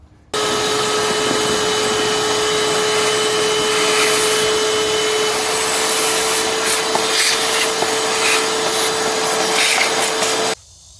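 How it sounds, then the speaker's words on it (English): A vacuum cleaner cleans a Chevy Cruze car interior, running steadily for about ten seconds with a constant whine, switching on and off abruptly, with faint scraping as it moves. "I'm going to vacuum that out real quick"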